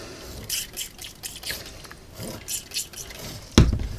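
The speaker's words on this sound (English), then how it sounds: "Again, I just squirt a little water in." Water is squirted into an airbrush paint cup in a few short, soft splashing bursts, followed by a sharper clunk near the end.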